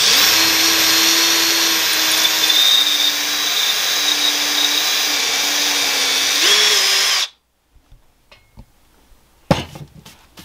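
A power drill whines steadily and loudly for about seven seconds while drilling into a board, then stops, leaving quiet clicks and light handling noises.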